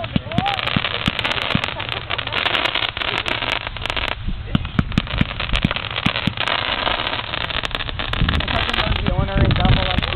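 Fireworks pop and crackle in dense, irregular bursts at a July fireworks show in Northfield, with wind buffeting and people chatting over the explosions.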